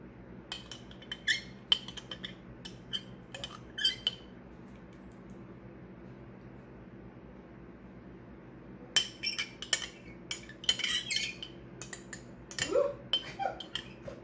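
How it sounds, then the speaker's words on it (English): A utensil scrapes and clinks against a jar while a blueberry mango dessert is being made, with irregular scrapes in two bursts separated by a quieter pause, close and moderately loud. "Sorry about the jar scraping, y'all."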